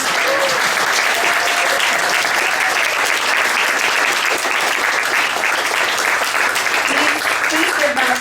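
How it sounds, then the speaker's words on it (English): Steady, dense applause from a bar audience at a poetry launch and celebration, sustained evenly across the whole stretch with no letup. "a huge round of applause for Greg and Derek, who did all the work for me"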